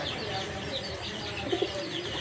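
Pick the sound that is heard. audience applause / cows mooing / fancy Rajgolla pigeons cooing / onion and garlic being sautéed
fancy Rajgolla pigeons cooing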